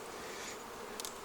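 Honey bees return to their hive in late season, a soft, faint, continuous buzzing hum with a brief louder wingbeat pass near the end.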